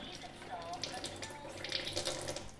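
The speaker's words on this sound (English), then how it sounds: "Turn the water on." Tap water running into a Kangen 8 water ionizer machine, a steady close splashing hiss with some faint chirps from the unit.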